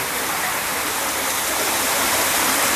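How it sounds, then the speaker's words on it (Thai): A garden waterfall at a cafe on a melon and tomato farm in Surat Thani, making a steady, loud, close rush of falling water throughout, with no talking. "อืมน้ำตกสวยมากเลยครับ"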